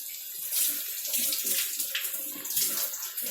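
A glass of water pours into chicken masala in a cooking pot, a steady splashing, gurgling stream that runs continuously and fairly close for a few seconds with no talking.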